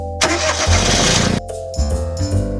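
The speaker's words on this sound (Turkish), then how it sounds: "Bu bir minibüs. Minibüs böyle ses çıkarır." A minibus engine cranks over and starts, then settles into a rough idle with a couple of brief revs, heard close and loud with no voices.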